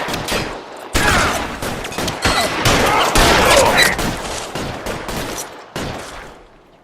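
Loud, rapid bursts of gunfire crackle almost without pause during a shootout in the L.A. Noire video game, fading toward the end.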